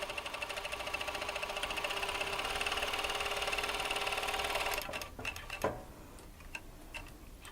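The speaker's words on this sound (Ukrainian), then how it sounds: "Ця машина предназначена для обметування країв деталей." An industrial overlock sewing machine, started by foot pedal, runs fast and steady for about five seconds with a rapid mechanical whir while edging fabric pieces, then stops, leaving a few clicks and handling noises.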